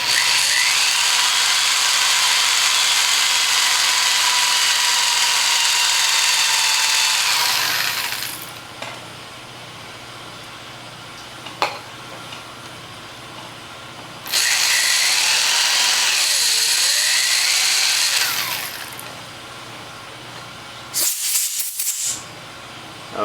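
Thread tap cutting into metal with tap fluid, a dense grinding, ratcheting scrape that runs loud for several seconds, pauses, returns in a second long burst, then ends with a few short clicks; no talk.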